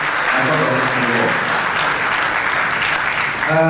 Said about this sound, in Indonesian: Sekali lagi tepuk tangan untuk Pak Hendra dan Pak Dr. Nugroho.